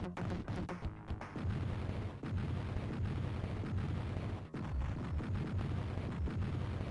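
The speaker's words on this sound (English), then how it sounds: "I like how the plants explode." Plants blowing up in a Sega Genesis video game, a dense run of repeated booming bursts and crackles layered over game sound, loud and continuous with a couple of brief dips, no talk.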